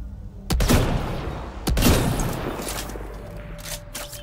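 Gunfire in the video game Mass Effect Andromeda: two sharp, loud blasts about a second apart, each trailing into a rumbling echo and scattered crackle, with faint later pops.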